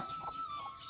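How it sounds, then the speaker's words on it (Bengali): A chicken gives a short, quiet cluck while attacking, a single faint call over low background noise. "মুরগি আক্রমণ করে"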